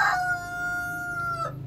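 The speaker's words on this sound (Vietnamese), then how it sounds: "Thế là bà nuôi gà ở trong này à?" A rooster crows once, loud and near, in a long drawn-out call at a rural Vietnamese home where a few chickens are kept, with a low background hum and no talking.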